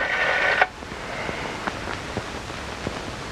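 A telephone number is dialed on an old rotary phone, with a short burst of tone followed by several sparse, evenly spaced clicks, fairly quiet and without any talking.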